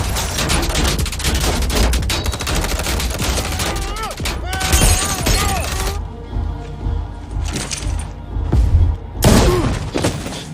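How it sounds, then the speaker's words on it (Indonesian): Gunfire in an action movie shootout, where a drug gang opens fire on police: dense bursts of sharp shots and cracks, loud and rapid, with brief pauses and some background voices. "ia segera menembaki polisi tersebut"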